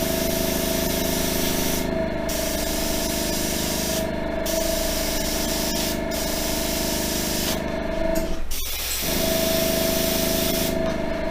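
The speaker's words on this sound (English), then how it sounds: "We're gonna hold back on the airbrush just a little bit, hold it back, and just lightly mist." Continuous hiss of an airbrush lightly misting paint onto a diecast toy car, broken by brief pauses, with a short clatter near the end before the steady spray resumes.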